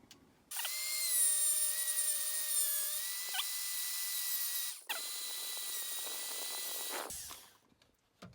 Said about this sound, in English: So I've just got a Dremel, I'll have to cut away the bottom and then cut down the sides.